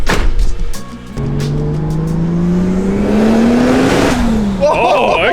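Ford AU Falcon with a new raspy aftermarket exhaust, revving loudly and steadily climbing in pitch over several seconds, then dropping away, with voices briefly audible near the start and end.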